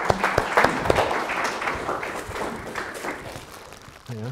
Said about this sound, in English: So I'll give them a round of applause.